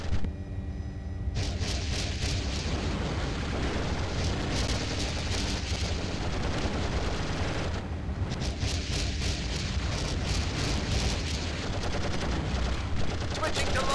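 An Apache attack helicopter in a video game unleashes a long, continuous barrage of rocket fire, loud rapid bursts and explosions roaring without pause.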